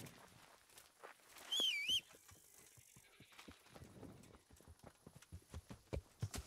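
Horse hooves clip-clopping at a steady walking pace in the video game Kingdom Come, a clear repeated rhythm heard alone and fairly close.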